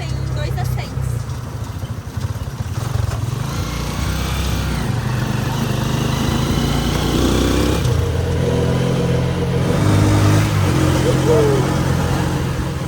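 A small motorcycle taxi engine buzzes and revs continuously close by, with road noise and people talking under it.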